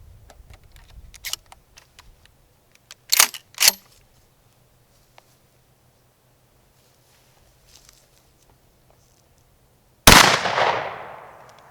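A Remington 870 shotgun fires a single 1-ounce slug, one loud sharp blast with a ringing decay outdoors, preceded by faint clicks and handling noises.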